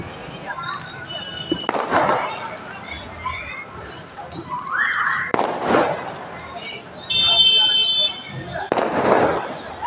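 Firecrackers go off repeatedly in the open street during the Karthigai Deepam festival in Tamil Nadu, sharp bangs and crackling bursts spaced a few seconds apart, with voices and street noise in between.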